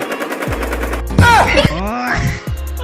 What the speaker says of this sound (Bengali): এই দুই বলদ হাসি বাচ্চাকে মারার জন্য গুলি চালাতে শুরু করে